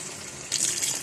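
Water pours into a cooking pan of chicken pulao, a soft steady splashing stream that swells louder halfway through and keeps running to the end, with no voices.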